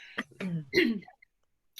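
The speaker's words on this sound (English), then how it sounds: "Clear my throat a little bit." A person clears their throat close to the mic in a few rough, gravelly bursts, then falls silent.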